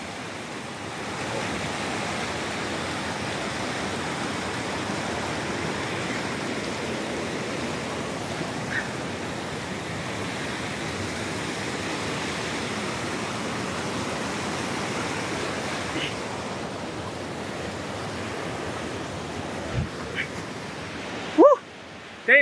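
A mountain stream rushes steadily on a Himalayan trek, a constant close broadband roar of water over stones with occasional faint knocks near the end.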